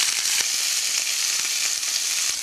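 Steady, loud sizzling of lamb souvlaki frying in a hot pan, with a constant crackle and scattered little pops, heard up close without talking.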